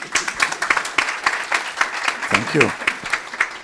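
Audience applause for a panel at a festival-of-ideas session, steady dense clapping throughout with a voice speaking briefly over it.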